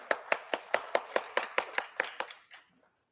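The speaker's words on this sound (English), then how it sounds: "A huge round of applause for them." A small audience at a marketing conference panel claps in a sharp, evenly spaced rhythm, about a dozen distinct claps close by, fading out at the end.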